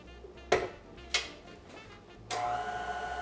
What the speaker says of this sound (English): we're going to place this under the KitchenAid and mix it for about 30 seconds to combine all of our dry ingredients together.